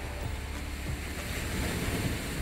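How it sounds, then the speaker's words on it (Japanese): Ocean surf at Kahaluu Beach in Kona, Hawaii, rolls in as a soft, continuous wash with wind buffeting the microphone, and no one speaks. "見て、ちょっと波あるのよ。"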